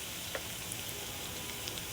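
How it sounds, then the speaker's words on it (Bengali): Onion, garlic and green chili fry in oil on their way to light brown, a faint, steady sizzle with a few tiny pops and no talking. "তেল দিয়ে পেঁয়াজ, রসুন, কাঁচামরিচ একটু হালকা বাদামি করে ভেজে নেব"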